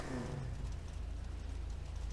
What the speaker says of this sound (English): you heard the V8 sound that we now have in our gauntlet